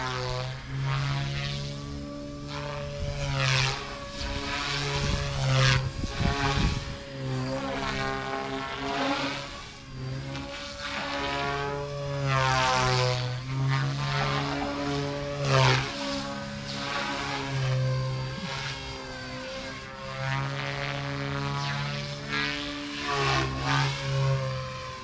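Small RC helicopter running at idle-up head speed, a steady high-pitched rotor and motor whine with strong harmonics that holds near and loud, wavering slightly in pitch throughout.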